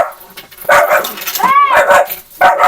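A dog guarding a rural house barks and yips in short, loud bursts close by, mixed with a brief whimpering whine, while people greet each other.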